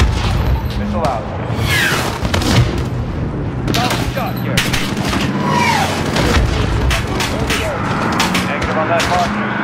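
A missile explosion rumbles amid heavy gunfire and booms in Call of Duty Modern Warfare (2019), a loud continuous battle din with soldiers shouting over it.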